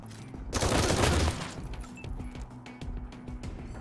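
Heavy burst of gunfire in the game Wasteland 3, a dense loud fusillade lasting about a second, then scattered lighter shots and impacts trailing off.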